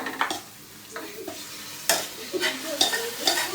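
Biryani ingredients being roasted and stirred in a hot pan, a spoon scraping through them in irregular strokes over a steady frying sizzle, close and fairly loud, with no talking.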